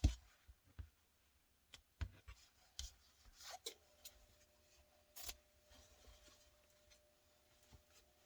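Scissors cutting a curve in fabric by hand for a sewing project, a sequence of close, quiet snips and rubbing scrapes at irregular intervals with near silence between them, with no talking.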